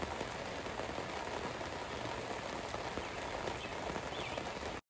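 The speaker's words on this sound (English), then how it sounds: "more rain." Steady rain pours down at a lakeside campground on a Saturday morning, a dense, even hiss of drops hitting surfaces that holds constant for about five seconds before cutting off.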